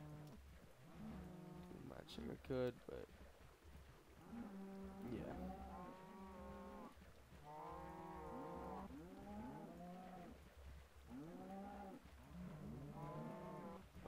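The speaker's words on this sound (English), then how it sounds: "Sorry about the cows," Minecraft cows mooing repeatedly in an indoor build area, several drawn-out moos overlapping back to back and filling the scene, with a voice talking briefly underneath.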